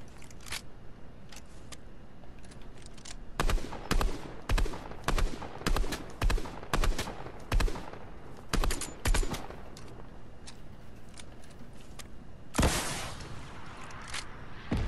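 Rapid bursts of gunfire from a Fortnite solo match, a steady run of loud repeated shots from about three to ten seconds, then a sharp blast near the end over constant game background noise.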